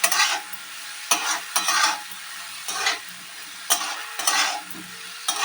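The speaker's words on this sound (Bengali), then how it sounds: "এইভাবে কষতে থাকবো" Jujube chutney being stir-fried in a pan, a spatula scraping and stirring in repeated bursts over a steady soft sizzle, close and fairly quiet.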